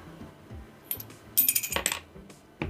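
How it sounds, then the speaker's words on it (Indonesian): A coin drops into a drinking glass with a bright metallic clink, followed by a quick rattle of rim-and-base chimes as it settles. Fainter handling taps come before and after, with no voices. "4 buah koin yang akan gue pindahkan satu persatu ke dalam gelas."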